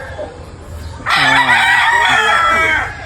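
A gamefowl stag crows loudly and close by, one long ragged cock-a-doodle-doo after a moment of quiet background noise.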